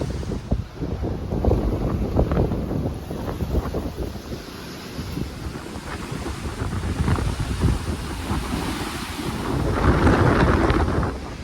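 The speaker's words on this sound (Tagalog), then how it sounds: "Grabe lakas ng hangin." Strong wind on Bantayan Island roars and buffets the microphone in heavy, irregular gusts, loud and continuous throughout.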